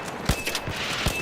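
Several gunshots crack in the video game Arc Raiders, three or four separate sharp bursts over a short span, set against a steady game backdrop.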